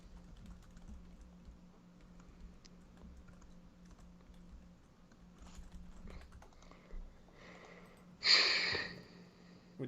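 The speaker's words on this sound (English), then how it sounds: "I'm typing in the comment section" Computer keyboard typing, a run of faint soft key taps at close range over a steady low hum, followed by a brighter, louder burst near the end.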